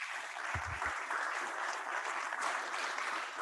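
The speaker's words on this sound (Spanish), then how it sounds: "terminar con un aplauso muy grande para todos los panelistas" Conference audience applauding panelists at the close of an Internet and sustainable development plenary, a dense, steady clapping that fills the whole moment without voices.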